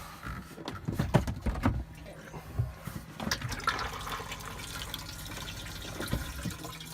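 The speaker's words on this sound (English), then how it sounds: "you want to click the flusher, which is that blue button" A Carthago motorhome toilet flushes, water gushing and gurgling into the bowl at close range, with knocks and clicks at the start before a steady running-water wash.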